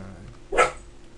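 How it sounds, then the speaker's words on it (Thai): A dog gives one short, sharp bark, moderately close, standing out briefly over a quiet indoor background. "ขออภัยมาเห่า"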